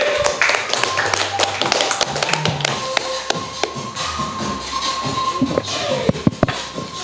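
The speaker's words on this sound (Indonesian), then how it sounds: "Boleh tepuk tangan buat Raffi." An audience at a live comedy show applauds as a performer is introduced, with sharp, scattered claps and taps that thin out into a few isolated hits toward the end.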